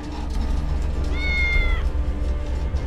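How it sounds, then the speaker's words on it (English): A single drawn-out cat meow in the video game Tales of the Neon Sea, thin and fairly faint, rising over a constant low rumbling background hum. "I'm sure that's a cat meowing"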